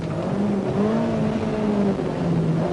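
A rally car races flat out along a stage of the 1987 Ulster Rally, its engine held at a high, steady drone with wavering pitch as it revs and shifts, loud and continuous with no talk.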